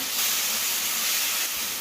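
A steady, loud hiss of ground spice paste sizzling hard in a hot pan for mutton kosha, continuous throughout with no voices.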